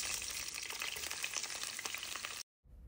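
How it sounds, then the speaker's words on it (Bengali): Chopped onion frying in hot oil in a heated wok, a dense, steady crackling sizzle with a few sharper pops, continuing for a couple of seconds before cutting out abruptly. "তেলের মধ্যে পেঁয়াজ কুচি দিয়ে দিলাম।"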